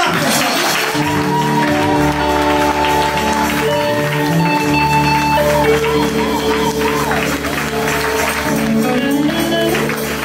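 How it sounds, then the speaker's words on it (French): An audience applauds loudly in a church gathering, sustained clapping and crowd noise mixed with music and speech throughout. "j'aimerais que nous puissions encore applaudir fortement pour Jésus"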